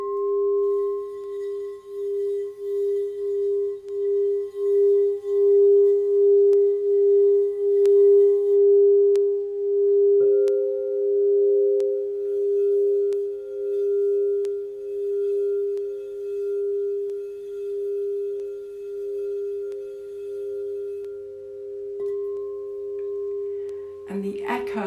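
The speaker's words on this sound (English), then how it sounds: "the echo that you can hear on the bowls is a smoky quartz and charcoal bowl" A smoky quartz and charcoal crystal singing bowl rings with a pure, sustained hum that pulses gently at first, then settles into a long steady drone with a faint second overtone before fading near the end.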